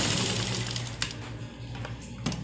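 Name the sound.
sewing machine stitching two fabric strips together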